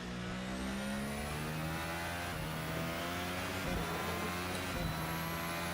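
An F1 race car lapping the Chinese Grand Prix circuit in a video game holds a steady high engine whine with gear shifts and shifting pitch, loud and continuous with no talk.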